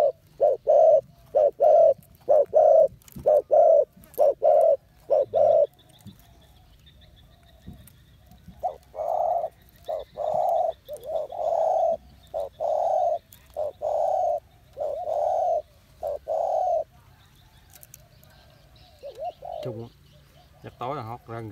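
Caged spotted doves coo in steady repeated phrases, a run of evenly spaced, resonant coos, a pause, then another longer series, close and clear with a faint background hum.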